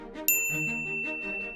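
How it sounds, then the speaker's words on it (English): A single bright bell ding rings once and lingers with a clear ringing tone over a soft, mellow musical background. "One day, Pavlov rang a bell just before feeding time."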